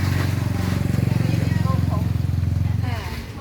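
A motorcycle rides along at a steady pace with a rhythmic, pulsing engine drone, loud and close. Someone talks over it for most of the ride.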